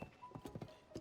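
A horse in the video game Tears of the Kingdom trots along, its hooves making quick, light clip-clop beats in an irregular rhythm over about a second, fairly faint.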